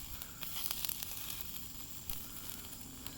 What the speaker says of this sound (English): They're on there sizzling.